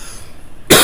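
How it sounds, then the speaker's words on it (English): A man who is getting sick gives a single sharp, loud cough near the microphone at the very end, after a moment of quiet room tone. "I can feel myself about ready to cough again."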